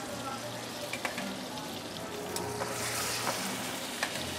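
Marinated octopus and garlic sizzle in a hot pan for a Brazilian dish, a steady bright crackle punctuated by occasional sharp clicks of a utensil moving the food.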